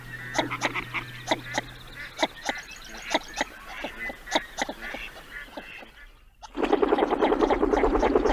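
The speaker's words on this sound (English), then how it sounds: "I'm going to play the sound of the shovelers now." A series of short, nasal northern shoveler duck calls repeating irregularly, close and clear, followed by a burst of louder, busier noise near the end.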